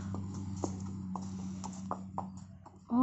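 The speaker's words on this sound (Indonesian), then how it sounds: "Tuh, ada kuda putih." A horse's hooves clip-clop at Lazara Stable, a riding arena in Jakabaring, Palembang, with evenly spaced soft thuds under a steady low hum and a louder noise at the end.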